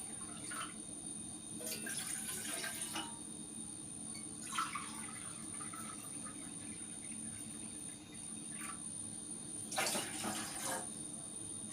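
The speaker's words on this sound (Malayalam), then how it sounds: "2 ഗ്ലാസ് വെള്ളം ഒഴിച്ചെടുക്കാം." Two glasses of water poured into a cooking pot on a home stove, heard as a few short splashing bursts over a steady, faint background hum, with quiet gaps between pours.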